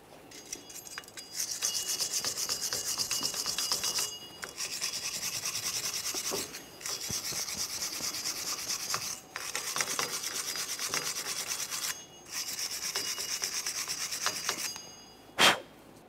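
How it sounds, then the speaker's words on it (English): Steady rasping scrub on the rear wheel hub of a 2001-2005 Ford Explorer Sport Trac, cleaning the metal surface between the studs, runs in long bursts with short pauses and a sharp knock near the end, close and with no talk. "Once you have the main surface cleaned down, continue on cleaning in between the studs and the hub."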